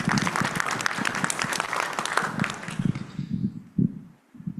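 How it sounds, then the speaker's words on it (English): Lively applause from an audience at a health equity summit, dense clapping that thins out and stops in the last second, leaving a few scattered claps. "Round of applause."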